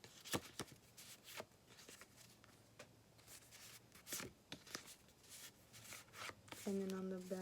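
Taylor Swift trading cards being handled, faint crisp flicks, slides and taps of cards at close range, with a voice speaking near the end.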